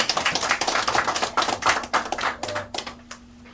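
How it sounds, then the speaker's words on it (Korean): Hands clapping in a dense, irregular patter from a gathered audience at a launch ceremony in Myeongdong, strong at first and thinning out toward the end, with a steady low hum underneath. "여러분 박수 부탁드립니다"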